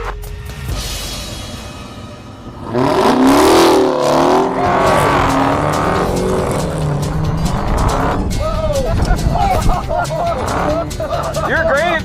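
Dodge Charger Hellcat muscle car roaring off-road, engine revving hard with tires squealing and skidding, loud and close after a quieter start, with excited voices cutting in over the engine noise.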